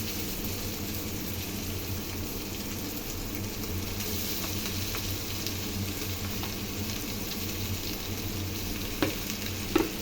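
Fried soya chunks going into a pan with onion and tomato, frying in a continuous loud sizzle with some stirring and a couple of sharp clinks near the end.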